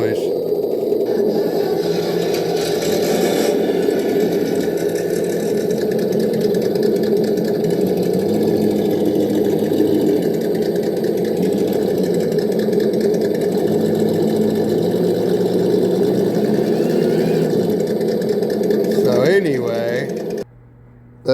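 Two RC trucks, a TRX4 High Trail and a Bronco, run engine sound simulators together, producing a continuous overlapping synthetic engine rumble and idle, loud and close, with a brief whine near the end.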